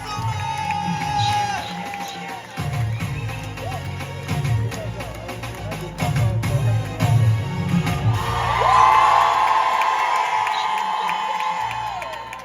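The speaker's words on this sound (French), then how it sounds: "Faites-moi un maximum de bruit, des applaudissements, des applaudissements" An audience at a Paris concert of Congolese music cheers, whoops and applauds, a dense and loud wall of crowd noise with music tones running underneath, swelling toward the end.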